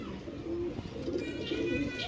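A fancier's pigeon of a rare breed coos in repeated low, throaty phrases close by, over a steady background hum.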